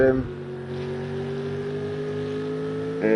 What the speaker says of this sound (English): Listen to the engines here as we're heading through this